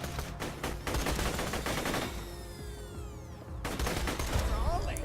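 Borderlands 2 firefight with sustained rapid gunfire bursts and explosive grenade blasts, loud and dense, with whistling, sweeping projectile tones in a brief lull before the shooting resumes.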